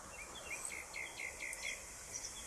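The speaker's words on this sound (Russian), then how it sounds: "В деревьях птички." Small birds in riverside trees in a stony valley give faint, distant chirps, short bright calls repeating in an uneven series over a quiet background.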